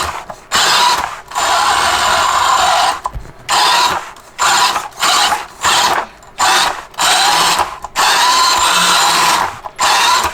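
RCAWD brushless motor in an RC crawler revved at full throttle, a loud high electric whine in repeated bursts of roughly half a second to two seconds with short gaps between, close-up and without talking.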